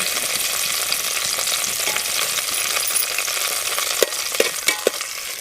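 Bay leaves and cinnamon sizzle steadily in hot oil, a continuous bright crackle with a few sharper pops and spoon knocks near the end.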